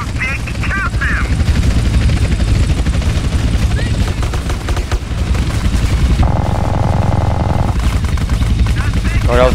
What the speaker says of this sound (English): And we have an army helicopter coming in.